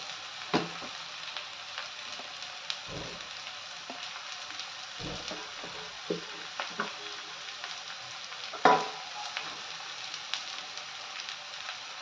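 Onions and bitter gourd pieces fry in a pan, giving a soft continuous sizzle broken by occasional louder scrapes and knocks of a spoon stirring them; close, no voices.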